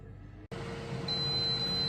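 A thin, steady high-pitched electronic beep from an air fryer finishing chicken schnitzel rings out over constant background hum, starting about halfway through and sustained to the end.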